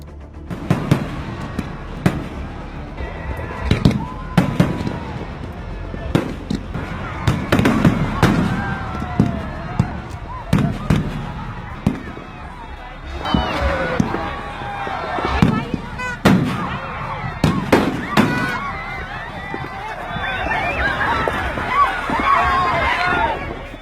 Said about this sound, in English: fireworks began exploding on the ground before launching at a park